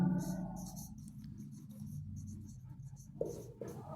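Chalk or pen writing out an equation during a maths class, soft scratchy strokes with short pauses, faint and close, over a low steady room hum.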